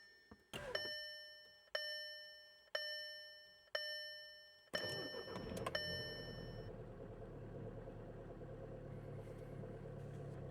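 A 2013 VW Beetle TDI diesel with a manual gearbox gives a few evenly spaced warning chimes, then cranks and catches, settling into a steady, close diesel idle.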